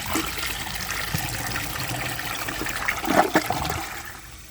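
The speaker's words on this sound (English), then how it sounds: "The short flush is really not going to help." A 2007 Crane Elite toilet on short flush, a loud close rush of water swirling and draining that surges near the end, then trickles as the bowl empties.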